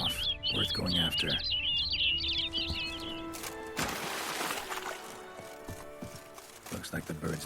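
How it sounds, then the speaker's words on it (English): Bird chirps and tweets from a bird in The Witcher 3: Blood and Wine, a quick run of high calls early on, then scattered fainter ones over game ambience, hoofbeats and music. "Looks like the bird's leading me somewhere."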